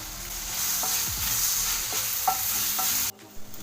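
Chopped onion, tomato, crushed ginger and garlic sauté in a pan for prawn roast, a continuous bright sizzle broken by scraping stirs, then cutting off abruptly before a few faint clinks.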